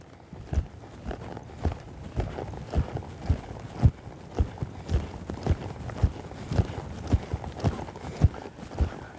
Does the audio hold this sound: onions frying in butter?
no